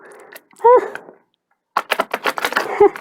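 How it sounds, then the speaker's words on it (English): A large deck of cards riffles and slaps in quick bursts, a short clattering shuffle, a pause of silence, then a longer rapid flutter of cards, close and fairly loud, with brief voice sounds mixed in. "that was an epic fail of a shuffle"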